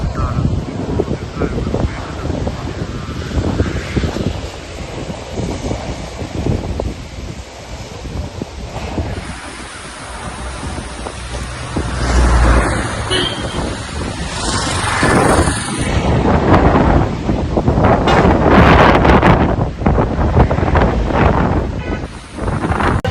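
Gusty wind buffeting the microphone near the Courtallam waterfalls in Tenkasi, loud and continuous, with roaring surges and a rushing water-like wash underneath for the whole stretch.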